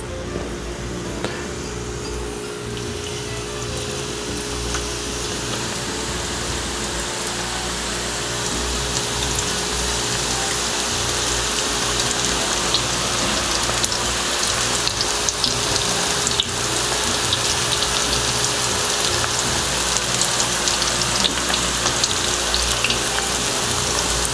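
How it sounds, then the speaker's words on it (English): A small piece of onion sizzles steadily in hot frying oil, a continuous crackling hiss that holds at a fairly even level throughout with no talking. "let's test our oil. Happen to have a little piece of onion right there."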